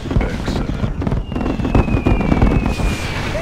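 A unit fires a salvo in Command & Conquer: Red Alert, a dense run of loud overlapping booms and cracks rolling over several seconds.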